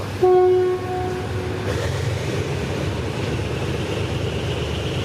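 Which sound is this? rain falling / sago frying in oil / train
train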